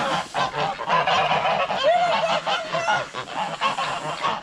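A flock of farm geese honks loudly and continuously at feeding time, many overlapping calls crowding close together with no break.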